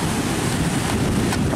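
Ocean waves and surf, a dense continuous rush of broadband noise with wind, loud and close, with no voices.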